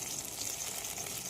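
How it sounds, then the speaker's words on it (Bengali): Bora fritters fry over low gas heat with a faint, even, continuous sizzling hiss. "বড়াটা ভাজার জন্য আমি গ্যাসের তাপ কমিয়ে দিয়েছি"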